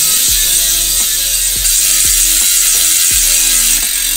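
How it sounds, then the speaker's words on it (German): A bicycle wheel's freewheel hub ratchet clicks loudly and up close as the wheel spins on a truing setup, with a rapid metallic pawl buzz and regular pulses roughly every half second, no voices. "kommt das große Finale, der Hub- bzw. Soundcheck"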